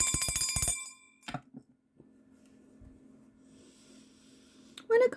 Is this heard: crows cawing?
no